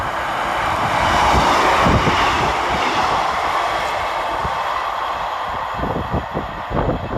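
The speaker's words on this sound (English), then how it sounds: "Passing through the station next is 156512. Working 1 Alpha 15 from Kilmarnock to Glasgow Central." A Class 156 diesel multiple unit, 156512, passes through Pollokshaws West station on a Kilmarnock to Glasgow Central service. A loud, steady rumble with rhythmic wheel clatter fills the whole stretch, with no voices.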